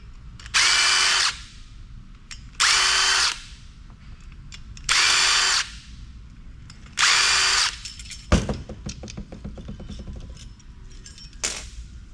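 A power drill spins in four separate bursts of about a second each while removing fan screws from an aluminum PC heatsink, followed by loose clattering and rattling of metal parts near the end.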